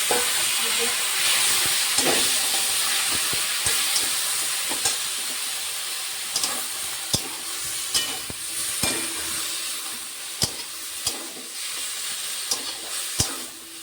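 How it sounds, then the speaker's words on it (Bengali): Spices frying in a pan as boiled taro greens go in, a steady close sizzle with sharp spoon knocks and scraping stirs growing more frequent toward the end. "এখন মশলাগুলো আমার ভালো করে ভাজা হয়ে গেছে, এখন সিদ্ধ করা শাকটা দিয়ে দেবো"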